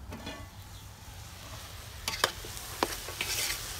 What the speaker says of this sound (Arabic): هو الدجاج كيتشحر